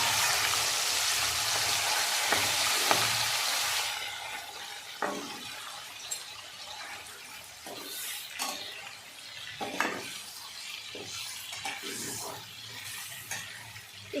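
Chicken frying in a pan for chicken pachada: a loud, bright sizzle for the first few seconds that then drops to a quieter fry, broken by scattered knocks and scrapes of a utensil against the pan.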